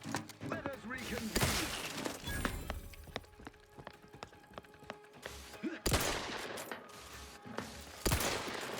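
Gunfire in The Outer Worlds 2, with several loud bursts of shots in separate clusters, broken by quieter stretches of game sound effects and music.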